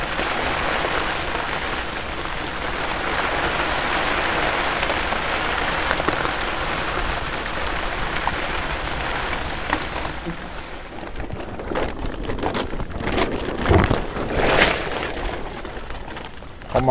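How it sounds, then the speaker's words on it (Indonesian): Steady rain pours onto surfaces at a fishing spot on the Kombaya River, a dense hiss throughout with sharper drip and splash hits near the end and faint voices occasionally underneath. "Kita hujan-hujanan guys."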